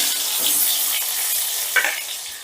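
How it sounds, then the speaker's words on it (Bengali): Pointed gourd (potol) pieces frying in hot oil, a steady close sizzle with brief stirring clatter. "পটলগুলোকে আমি হালকা লাল করে ভেজে নিয়েছি"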